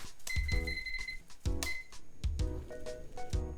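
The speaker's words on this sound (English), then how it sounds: "so I'm going to set a timer to 10 minutes." A kitchen timer being set to ten minutes while udon noodles cook in a home kitchen: a run of sharp electronic beeps and clicks, one per button press, close and fairly loud, with short gaps between.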